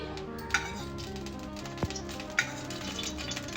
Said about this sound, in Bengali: সর্ষের তেল দুটো শুকনো লঙ্কা ভালো করে ফোড়ন দিয়ে দিলাম